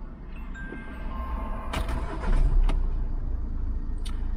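VW Passat or CC sedan engine cranking and catching, a low rumble that swells to a brief rev, heard close with a few sharp clicks on top.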